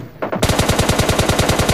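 Rapid automatic gunfire from PUBG Mobile Lite rattles out in a steady, loud stream of evenly spaced shots after a brief opening burst, with no talk over it.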